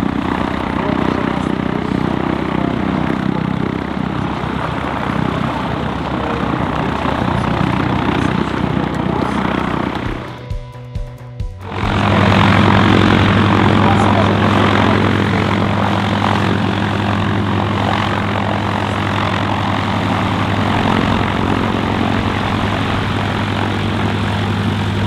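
A Grumman G-164 Ag-Cat biplane's piston engine climbing at an airshow, a loud continuous propeller drone that briefly cuts out, then returns at full strength with a steady low hum.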